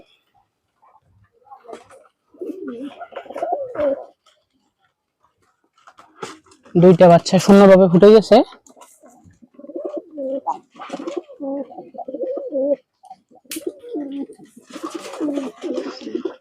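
Pigeons coo softly and close by beside newly hatched pigeon chicks, with a louder burst of cooing partway through and a person speaking in between.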